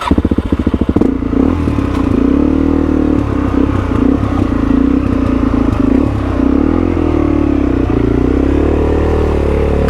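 A motorbike pushes through deep, murky water on a rough track, its engine droning steadily and loud with rapid clattering at the start and sloshing, wavering revs throughout.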